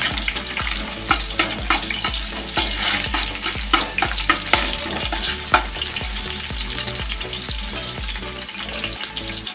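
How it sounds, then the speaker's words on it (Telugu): Onions and bay leaf sizzle in hot oil for chicken biryani, a steady broad crackle broken by regular spatula scrapes and clinks against the pan, close and fairly loud with no voices. "సో ఆయిల్ వేడెక్కింది, కొంచెం బగారా ఆకు వేసుకోండి, కొన్ని ఆనియన్స్ వేసుకోండి"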